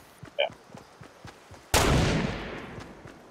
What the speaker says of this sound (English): Was that you shooting?